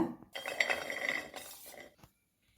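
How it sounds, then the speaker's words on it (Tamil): Roasted almonds poured onto a plate, a quick rattling clatter of nuts striking the dish with bright clinks, lasting under two seconds before stopping, close and fairly quiet. "இந்த வறுத்தினதை ஒரு பிளேட்டில் கொட்டிடலாங்க"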